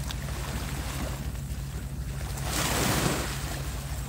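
Rough surf crashes and splashes near a boat at a beachfront at night in very rough weather, a steady wash with wind noise that swells louder midway.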